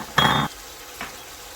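Chopped green chillies tipped into a pot of frying beef shank, a sharp burst of sizzling for about a third of a second that dies away, then a faint second hiss.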